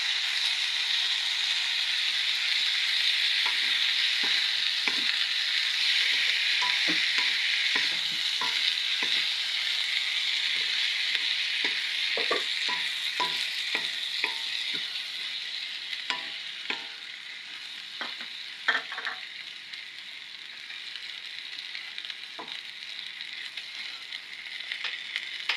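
Ground meat sizzles steadily in a hot pan while a utensil scrapes and clatters through it in irregular stirring strokes, close and fairly quiet.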